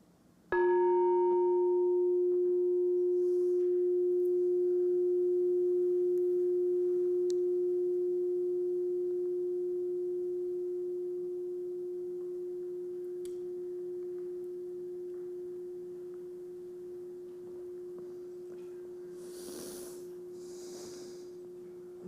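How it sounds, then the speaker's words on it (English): A meditation bell at a Sunday service is struck once, with a clear pure ring that sustains and slowly fades over about twenty seconds. A faint rustle is heard near the end. "And now here is the sound of the bell."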